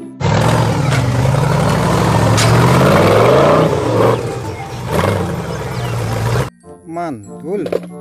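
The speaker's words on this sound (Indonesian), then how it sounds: "Mobil off-road." Toy off-road car giving a loud, growling engine rev effect that surges and roars for about six seconds before stopping abruptly, followed by a short burst of voice.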